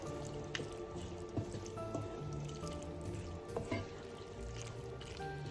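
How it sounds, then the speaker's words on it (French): Trofie pasta being mixed with 'nduja in a hot pan gives wet, squishy stirring sounds with scattered clicks and a soft background sizzle, close up and without talk. "je mélange bien et je vais laisser dans la poêle chaude une petite minute supplémentaire pour terminer la cuisson des pâtes."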